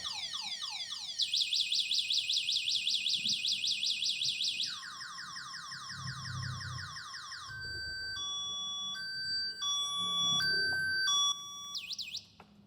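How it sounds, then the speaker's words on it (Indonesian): Alarm of a QT electric motorbike going off after a light tap: a loud electronic siren cycling through rapid warbling chirps, then steady beeping tones and short pulsed bursts, changing pattern several times, with no talk. "Itu alarm dari motor listrik QT."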